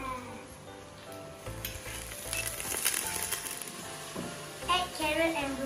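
Oyster sauce hitting a hot wok during a broccoli and mushroom stir-fry, giving a steady sizzle that flares louder partway through and again near the end, with faint stirring clatter.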